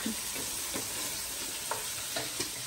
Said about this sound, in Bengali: ভাজা করছে মেথি শাক